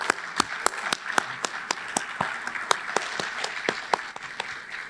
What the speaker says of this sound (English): Could you please join me in a round of applause?